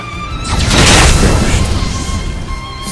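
A single booming fire-spell explosion from Octopath Traveler II, a loud deep burst that swells quickly and decays over a couple of seconds against a steady tonal game-music backdrop.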